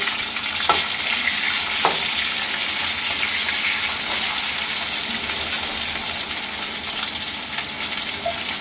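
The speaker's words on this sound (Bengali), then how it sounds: "তেল বসিয়ে দিয়েছি, শুকনো লঙ্কা গোটা দিয়ে দেবো, একটুখানি পাঁচ ফোড়ন দিয়ে দেবো" Dried whole red chillies and panch phoron sizzle steadily in hot oil, a dense continuous frying crackle with a couple of sharper pops, no voices.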